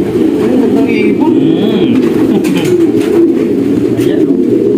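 Racing pigeons in a loft coo in low, rolling murmurs that continue steadily throughout. Voices and background chatter run underneath.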